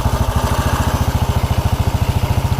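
A 1929 Ariel motorcycle engine pulls away in first gear, a loud, close, steady rhythmic thump of single-cylinder firing pulses that carries on with no talk over it.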